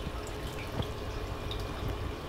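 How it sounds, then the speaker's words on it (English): Water dripping steadily from the drip line of an aquarium rack drip system, a constant soft watery trickle with faint drip ticks, close and continuous, no voices. "Higher drip rate since the aquarium is a little less filled than the"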